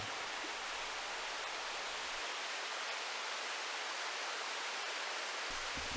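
Mountain stream rushing through Gugokdam valley in Seoraksan, a steady, full broadband roar of water that holds constant and close throughout, with no voices.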